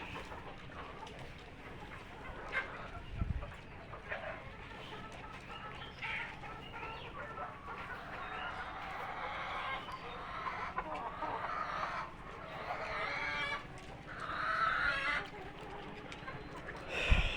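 Tiger-breed chickens cluck steadily over a low background hum, with scattered louder clucks and squawks from a flock nearby.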